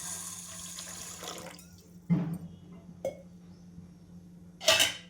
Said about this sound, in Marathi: पाणी टाकून घ्यायचं आहे.